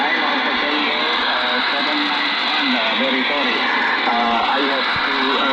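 Amateur radio transmission from Java Island, Indonesia, received as a noisy, band-limited shortwave signal, with a steady hiss bed and warbling voice-like tones running through the whole stretch.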